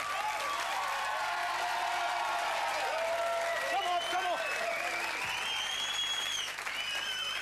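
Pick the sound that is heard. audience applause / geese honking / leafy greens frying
audience applause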